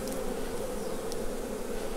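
Honeybees buzz steadily and densely around an open hive during an inspection, a close, continuous swarming hum with no voices.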